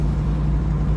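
A classic car with pumped-up air shocks driving along a bumpy road, heard as a steady, heavy low rumble of engine and road noise from inside the cabin.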